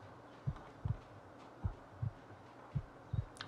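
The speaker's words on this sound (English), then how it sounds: "I don't like the heartbeat sound." Heartbeat sound effect in the survival video game The Long Dark, a faint, steady lub-dub thumping repeated about six times under quiet ambient background.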